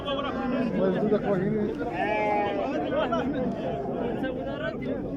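Sheep bleating at a Moroccan Saturday livestock market before Eid, several wavering bleats rising over dense crowd chatter and people bargaining nearby.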